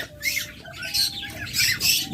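A high-mutation pet bird, a close-ringed local-bred opaline, squawks in sharp bursts inside its cage, several harsh calls repeated near and loud with no talk over them.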